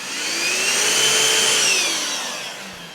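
A Grundig VCH 9832 cordless 21.6-volt cyclonic stick vacuum cleaner runs at its single maximum speed, giving a steady, loud, close whine with a strong high-pitched motor tone that swells slightly and then eases off near the end.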